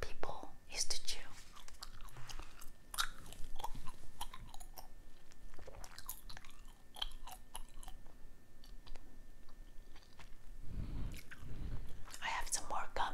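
Bazooka bubble gum chewed close to the mic, with soft wet mastication, bites and small clicks and crackles repeating through the clip, mixed with quiet whispered talk.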